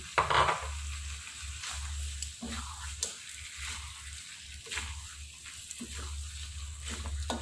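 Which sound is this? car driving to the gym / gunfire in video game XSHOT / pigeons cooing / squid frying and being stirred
squid frying and being stirred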